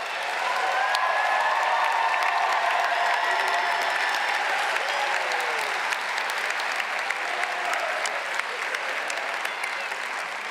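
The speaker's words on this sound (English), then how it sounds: "Let's give a huge round of applause for our name readers." Sustained, dense applause fills a large hall at the Portland State University College of the Arts commencement ceremony, a steady loud wash of many hands clapping with faint cheering throughout.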